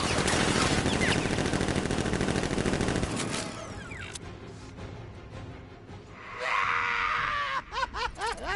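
Sustained automatic gunfire from militia guards in Batman: Arkham Knight, a loud, dense rattle for about three seconds, then scattered shots, screams and groans as the firing breaks up into short bursts.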